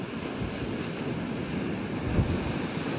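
A stormy sea churns with heavy surf crashing in a continuous roar, wind buffeting the microphone throughout, with a slightly louder surge near the end.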